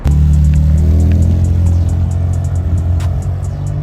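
A Mini Cooper pulls away from a car meet with a loud, close engine note, a steady low rumble that holds for nearly four seconds and eases off slightly partway through.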